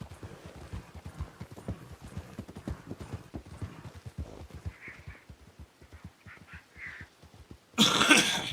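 Horse hooves in a video game clip-clop at a steady trotting rhythm, close and clear, with a few soft snorts mixed in and a sudden burst of louder noise at the very end.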